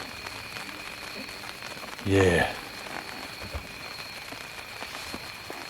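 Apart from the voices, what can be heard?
rain falling in the woods at night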